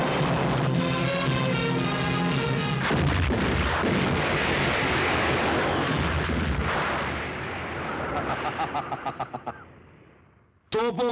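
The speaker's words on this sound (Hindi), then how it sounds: "तोपों की गूंज सुनो उल्मा।" Cannons fire in a dramatic film battle scene as a dense roar of booming blasts and rumbling explosions, followed by a rapid run of sharp cracks and a final abrupt burst.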